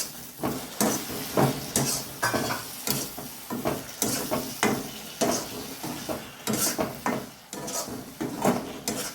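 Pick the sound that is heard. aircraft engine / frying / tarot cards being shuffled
frying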